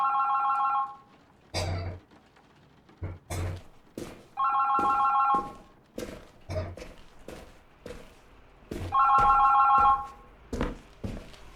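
An old telephone bell rings in three long bursts a few seconds apart, loud and close, with thumps and rustling movement between the rings.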